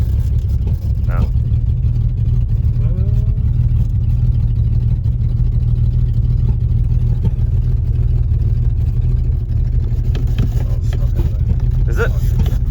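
An old Mercedes W123 engine, being revived after years abandoned, holds a loud, steady high-throttle drone with little change in pitch; voices come in briefly over it.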